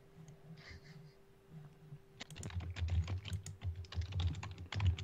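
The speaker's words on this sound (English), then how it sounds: "Angry typing." Angry, hard typing on a computer keyboard: after a quiet stretch with faint sounds, a fast, heavy flurry of loud keystrokes starts and keeps going, close up and hammering.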